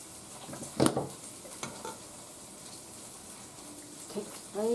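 A thick mixture for a nachos supper is tipped into a pot and stirred, giving a few scraping, clattering knocks near the start and a sizzling wash of sound after, with no talking.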